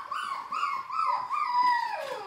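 Labrador puppies in a litter with their mother whimper and yip in a steady, close stream of high, wavering cries over a couple of seconds, with no talking.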